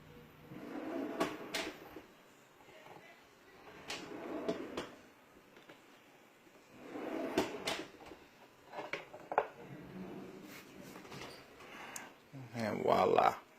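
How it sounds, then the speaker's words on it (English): A floating slide-out drawer, drilled directly into wall studs, is pulled open and pushed shut several times, giving short sliding bursts and soft knocks at a moderate, close level, with a louder clatter at the end. "it's a nice little slide out drawer"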